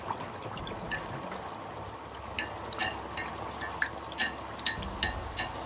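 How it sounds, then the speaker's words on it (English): Hot oil spooned over Mangalore buns frying in a pan, a steady soft sizzle with scattered bright drips and splashes, close and fairly quiet, no voices. "I'm just going to keep pouring hot oil over it."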